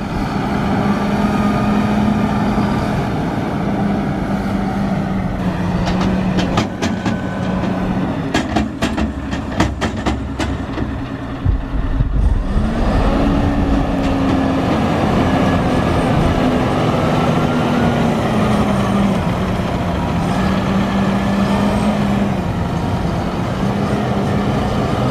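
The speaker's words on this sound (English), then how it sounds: "here's the spreader, Rytec GDK 8000, with the spinning discs on the back for spreading out the lime" A JCB Fastrac tractor pulling a Rytec GDK 8000 lime spreader with spinning discs drones loudly and steadily, its engine hum rising and falling in pitch with a rattling clatter throughout.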